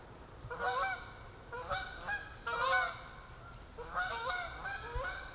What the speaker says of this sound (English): we heard a flock of Canada geese flying overhead.